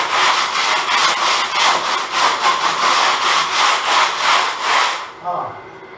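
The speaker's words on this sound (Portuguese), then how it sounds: "Então você vai começar a riscar aqui da parede." A tool drags rhythmically across wet grafiato plaster texture on a wall, loud close scraping strokes repeating about three per second for five seconds before stopping, with no speech.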